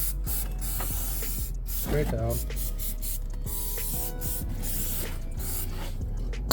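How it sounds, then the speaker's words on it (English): Brake cleaner aerosol sprays onto a motorcycle chain in a couple of bursts of hissing, close by, while someone talks over and between the sprays. "take the brake cleaner, take a piece of cardboard or whatever, put that behind the chain"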